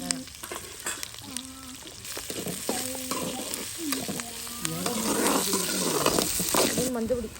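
Food sautéing in a pan at night, an ongoing sizzle with stirring scrapes and clinks, and voices talking intermittently over the frying.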